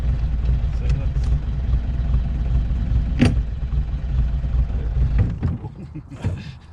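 A 1937 Austin 7 car engine revving and labouring as a driver struggles with throttle and gears, a close, rough, loud drone with a sharp clunk midway, under people talking.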